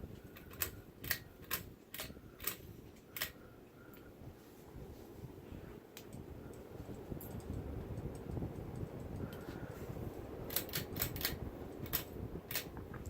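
A Harbor Breeze Tighman 52-inch ceiling fan runs on high speed, giving a steady low whooshing airflow hum with intermittent sharp ticking clicks near the start and end.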